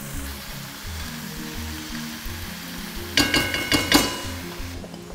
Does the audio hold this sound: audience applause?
no